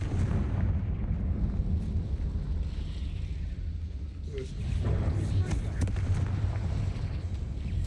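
A Confringo fire spell explodes during combat in Hogwarts Legacy, a dense rumbling blast with booming low end and crackling debris, sitting over continuous battle noise and wind-like roar throughout.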